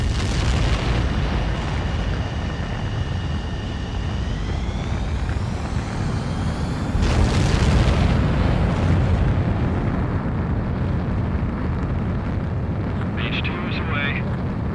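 Jet fighter taking off in the video game Ace Combat 7: a loud, sustained engine roar with a rising whine that swells into a heavy rumbling blast partway through, continuing strongly to the end.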